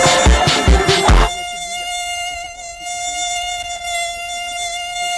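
Synthesized mosquito buzz, a loud steady high whine that starts after a few brief thumping bursts and holds evenly to the end, with no talk.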